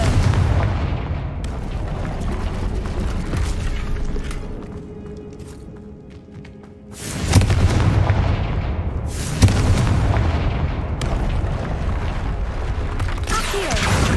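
Hogwarts Legacy gameplay in which the explosive Confringo spell is cast: heavy booming blasts with a deep rumble open the clip, ease into a quieter stretch, then return as loud repeated bursts around the middle and near the end.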